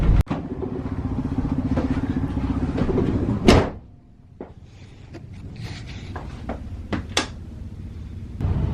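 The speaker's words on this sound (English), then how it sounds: "This road here is very washboardy and it's making everything rattle around and be real loud" A vehicle drives over a rough washboard dirt road with a constant loud rumble and rattling, then quiets briefly before scattered clunks and knocks continue.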